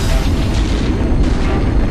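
Deep booming blasts roll continuously as spaceship weapons open fire in the space game Eve Online, a dense rumbling barrage with no voices over it.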